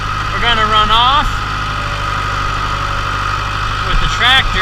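A farm tractor idles loud and close beside a hay wagon loaded with bales, a steady low mechanical drone running throughout while someone talks over it.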